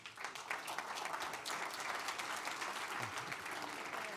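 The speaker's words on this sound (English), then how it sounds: "Please give her a round of applause." A conference audience applauds a speaker at a European security event, sustained dense clapping from a large crowd that holds steady and moderately loud for the whole stretch.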